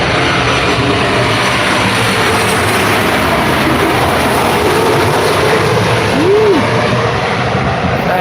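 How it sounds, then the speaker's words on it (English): A Qantas airliner in special livery touches down on runway 14 at the Gold Coast, a loud, continuous roar of engine and air noise filling the whole stretch, with no voices over it. "Touching down runway 14 here at the Gold Coast."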